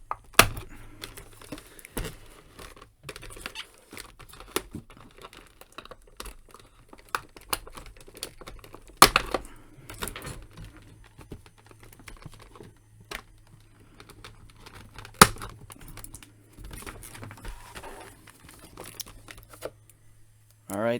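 A Godzilla action figure is worked free from its packaging and plastic ties, giving scattered clicks, snaps and plastic crinkles close by, with occasional louder pops, under intermittent talk.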